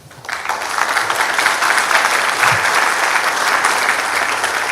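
Audience applause at a seismic-risk forum greets an invited engineering speaker, a steady, dense burst of clapping that swells within the first half-second and holds loud and even to the end, with no talk over it.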